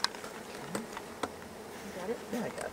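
Honeybees buzz densely around an active beehive, a steady close drone with individual bees whizzing past, while a voice speaks briefly underneath.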